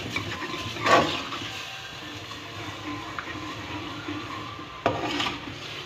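Masala and oil fry in a pan while being stirred, giving a soft, steady sizzle with intermittent scraping and rubbing of a spoon against the pan.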